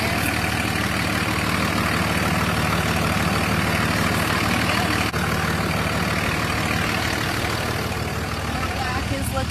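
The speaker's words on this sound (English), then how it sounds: "The truck's been running for a while." A 2003 Ram pickup with a Cummins 5.9L diesel idles in a steady, close, even drone that carries on unchanged throughout.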